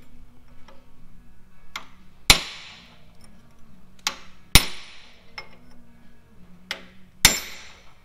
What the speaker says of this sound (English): then you just get your cold chisel in and crack it